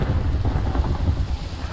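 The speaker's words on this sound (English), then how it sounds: "We got some rain, that's nice." Steady rain with a low rolling rumble of thunder in Minecraft, continuous and fairly loud throughout.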